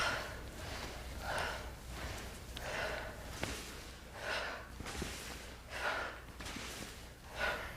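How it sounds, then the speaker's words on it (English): Nasal breathing during a slow, repetitive exercise, with soft rhythmic inhales and exhales through the nose, maybe partly through the mouth, recurring about every one and a half seconds, close and quiet. "breathing through the nose, maybe a little bit through the mouth as well"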